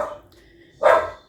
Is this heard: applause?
no